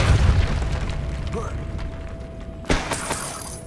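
The Depulso spell is cast in Hogwarts Legacy: a rumbling, mechanical layer of game sound swells into a sharp, punchy burst, followed by a short crackling tail.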